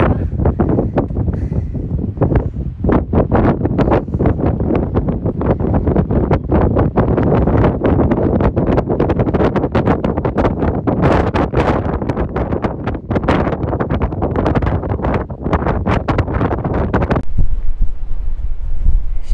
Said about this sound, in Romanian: Vântul este foarte puternic, abia reușesc să țin telefonul.